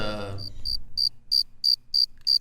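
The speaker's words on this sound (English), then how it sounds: "There's crickets happening right now." Crickets chirping in steady, evenly spaced pulses, faint and alone after a brief low rumble at the start.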